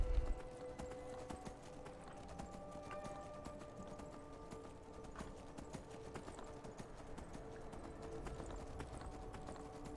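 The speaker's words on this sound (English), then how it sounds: "Now there's a horse right here." Horse hooves clip-clopping in the video game Skyrim, a long steady run of even, regular hoofbeats at moderate distance over a quiet outdoor game ambience.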